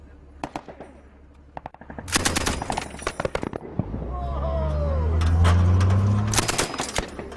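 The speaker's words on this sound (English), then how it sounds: "the Pathfinders insisted I learned how to use the commander's machine gun" Bursts of gunfire from a military machine gun during soldiers' weapons practice, several sharp rapid volleys in quick succession and then a spell of loud engine rumble with some voices.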